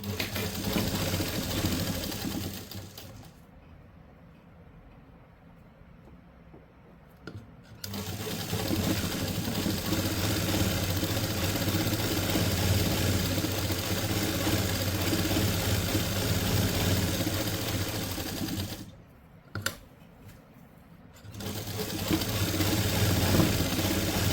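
An electric sewing machine stitches the sleeve onto a simple suit, a steady close whirring run that stops briefly twice with short quiet gaps before resuming.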